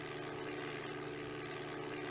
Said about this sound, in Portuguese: Esse avião aqui que eu tô, acho que é um Cessninha.